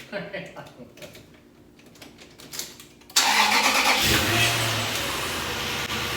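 A Jeep CJ engine cranks briefly with some clicks and rattles, then catches and settles into a loud, steady idle close by.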